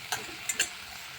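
Chopped green onion vegetables for zunka are stirred with a spoon in a frying pan: a faint sizzle underneath a couple of brief scrapes and taps of the spoon, close and quiet.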